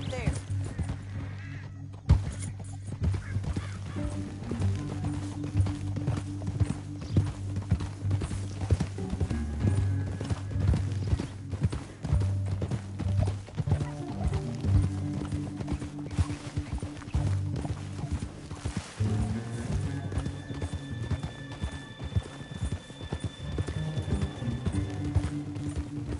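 Horses gallop with rapid, steady clip-clop hoofbeats across a canyon in Red Dead Redemption 2, over a low rumbling bed and occasional whinnies, while characters talk over the riding.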